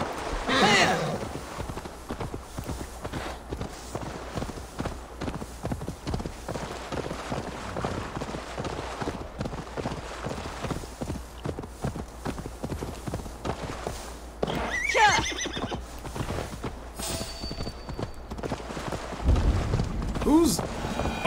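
A horse in the Assassin's Creed Valhalla video game, with steady rhythmic hoof clip-clops running throughout and occasional whinnies near the start and end, set against game ambience.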